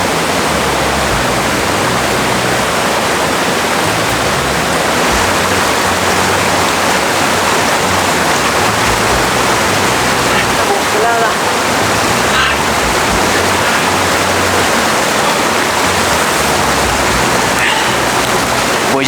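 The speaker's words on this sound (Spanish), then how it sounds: "Vamos a por el agua de río." Mountain river water flows in a steady, dense rush on a freezing cold day, a continuous broadband wash that stays loud and even from start to finish.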